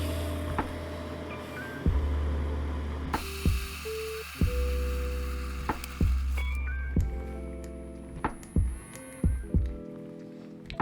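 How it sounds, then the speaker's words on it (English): Preheated milk being foamed by hand for an Aeropress cappuccino, a buzzing whir in short repeated bursts with clicks and knocks between them, close and fairly loud with no talk. "meanwhile you can stir and foam your milk, which should be preheated"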